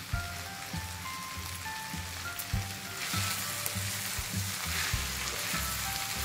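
Sweet corn chilli with spring onion fries in sauce, making a continuous close sizzle. Regular low thumps and scrapes of stirring repeat about every half second, and no one speaks.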